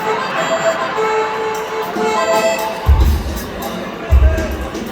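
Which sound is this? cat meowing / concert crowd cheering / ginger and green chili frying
concert crowd cheering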